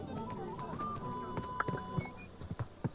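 Horse hooves clip-clop in Kingdom Come: Deliverance II, a few distinct hoof strikes landing in an uneven rhythm at the end over a busy game ambience with a faint tonal hum.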